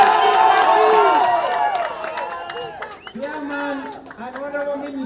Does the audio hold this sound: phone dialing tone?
no